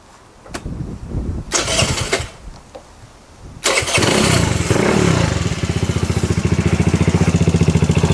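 Custom-built trike engine cranking with a few clicks and starter bursts, then catching and settling into a loud, close, steady throbbing idle that carries on to the end with no talking.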